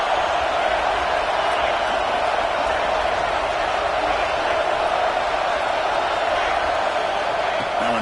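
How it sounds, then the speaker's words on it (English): Dense, steady roar of a packed football stadium crowd at a Penn State vs Tennessee game, a continuous wash of cheering and shouting that stays loud and even throughout with no break. "It's early, but this crowd is fired up. Listen to this noise here."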